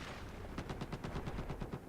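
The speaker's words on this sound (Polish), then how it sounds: "cały czas strzela się z takich broni karabinów, które strzelają pojedynczym strzałem." Rapid single-shot rifle fire from Battlefield 4 crackles in a steady string of about a dozen sharp reports, loud and continuous, with no talk over it.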